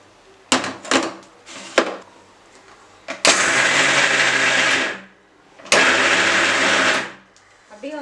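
Mixer grinder coarsely and dryly grinding soaked urad dal and chana dal, running in two loud whirring bursts of about two seconds each after a few short clunks and taps.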